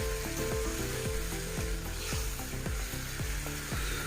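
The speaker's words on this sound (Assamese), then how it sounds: "লৈ পিনে মাংসখিনি এনেকৈ ভাজি থাকিম অকণমান" Meat fries in a pan with ginger, garlic and cumin paste, a steady close sizzle broken by regular scraping stirs and clinks, no voices over it.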